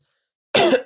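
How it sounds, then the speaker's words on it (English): A single short, sharp cough from one person, close and loud, after a brief silence. "Oh, I got a little bit of cough."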